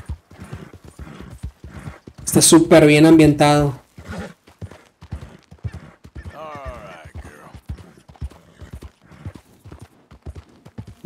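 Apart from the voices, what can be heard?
horse hoofsteps in video game Red Dead Redemption 2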